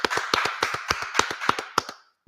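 An audience at the close of a class claps in a brisk, fairly even rhythm, loud and near, each clap distinct, before stopping abruptly into silence.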